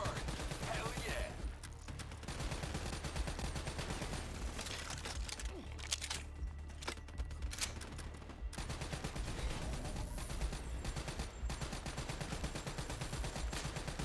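Rapid, sustained automatic gunfire with heavy recoil in Call of Duty: Black Ops III, rattling loud and dense for most of the stretch, with brief lulls and a voice speaking underneath.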